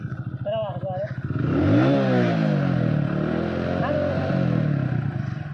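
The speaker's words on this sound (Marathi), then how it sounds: "इंजिन आवाज ऐकतोय" A motorcycle engine idles, then revs up loudly and settles again, close to the microphone, with a person talking over it.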